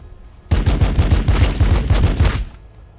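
Rapid gunfire rings out in the Warhammer 40,000: Battlesector strategy game. A loud, close burst of about a dozen evenly spaced shots lasts around two seconds, then cuts off, with no talk over it.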